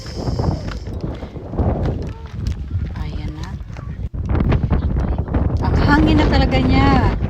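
Strong coastal wind buffets the microphone at Tintagel Castle, a loud rumbling roar that grows heavier in the second half, with people talking over it.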